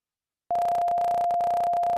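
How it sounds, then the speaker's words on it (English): Pure 697 hertz tone from an online tone generator. It starts abruptly after a short silence and stays steady, with small choppy breaks, loud and alone. "So there's this online tone generator."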